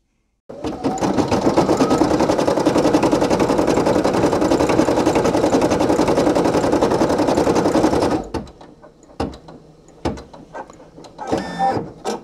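A Brother PE800 embroidery machine stitching a patch in white thread runs loud and close with a rapid, even mechanical chatter for about eight seconds, then stops, followed by scattered clicks and handling knocks.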